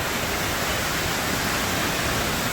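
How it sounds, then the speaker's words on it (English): A Disneyland waterfall rushes steadily, a dense and even broadband wash of falling water heard close and fairly loud, with no break and no voices. "The water fall still works"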